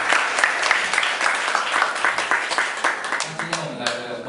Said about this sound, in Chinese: 我们先热烈掌声欢迎